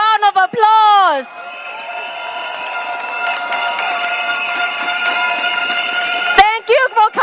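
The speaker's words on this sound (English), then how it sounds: "Please give yourself a round of applause." Cheering crowd at an outdoor PAP election rally for Nee Soon GRC in Singapore, held in the rain, with a long sustained roar and steady tonal horn-like drones; someone speaks briefly before and after.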